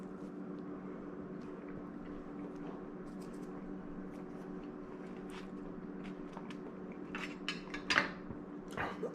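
Crisp crunching bites into a thin-crust pizza baked in a Gozney Dome oven, with a quiet hum and then a few sharp, close crackles of crust near the end.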